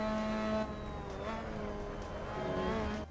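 A Mazda MX-5 Cup car in Assetto Corsa on the Daytona road course, its engine whining steadily up close and shifting pitch as it brakes into the bus stop chicane and accelerates out.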